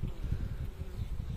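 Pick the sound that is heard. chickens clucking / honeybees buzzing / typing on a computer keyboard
honeybees buzzing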